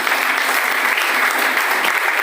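An audience at a celebration function applauds loudly and steadily, continuous close clapping filling the space without a break.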